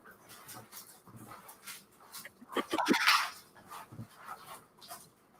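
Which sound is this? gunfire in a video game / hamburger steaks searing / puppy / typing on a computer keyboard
puppy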